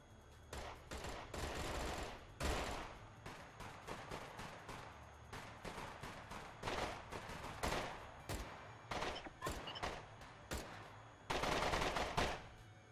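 Gunfire from the video game SCUM during a hooligans-versus-police community event, with repeated bursts and single shots of varied loudness throughout, some rapid automatic strings, heard fairly faint overall.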